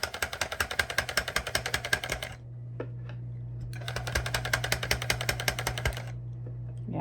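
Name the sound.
Clawlab tufting gun punching yarn into fabric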